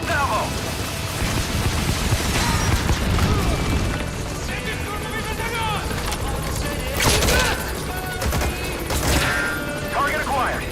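A helicopter's rocket salvo during an attack run in Metal Gear Solid V, a dense roar of launches and explosions with heavier bursts near the end, over rainy-sounding background noise and game radio talk.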